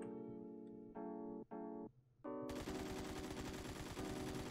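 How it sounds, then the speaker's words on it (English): Hip-fired gunshots in the Phantom Forces shooter game: a few short bursts of rapid automatic fire separated by pauses, then one long unbroken stream of fast, loud shots. "We're gonna test the hip fire right now"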